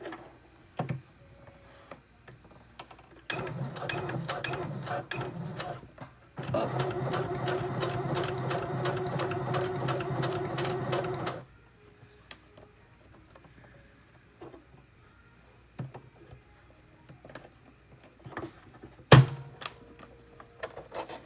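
A domestic sewing machine runs in two bursts of rapid, steady stitching through fabric, one short and one longer, with quiet gaps of small handling clicks and a sharp knock near the end.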